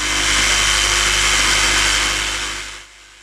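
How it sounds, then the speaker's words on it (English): A power drill bores holes in a wooden trolley handle, a loud steady whirring hum close by that winds down and stops near the end. "I first bore 2 holes on either side of the hand opening"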